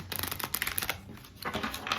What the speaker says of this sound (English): while I shuffle these theme cards